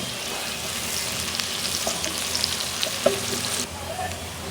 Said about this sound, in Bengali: পেঁয়াজটা কিন্তু ভাজা ভাজা হয়ে গেছে